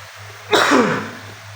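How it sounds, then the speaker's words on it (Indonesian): A single sudden cough bursts out from someone drinking water, close and loud against a quiet indoor hum, with a short raspy tail. "maaf gue batuk sambil minum air"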